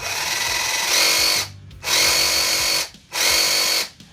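A cheap cordless reciprocating saw runs in three loud, close bursts of buzzing motor whine, separated by short pauses, with no talking.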